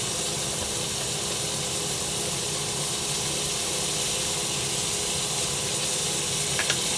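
Butter sizzling on pork ribeyes in a hot pan, a loud, steady, close frying hiss that holds unbroken for seven seconds with no voices.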